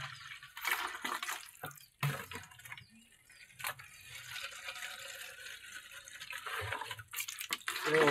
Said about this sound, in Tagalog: Amo tubig na ni guys.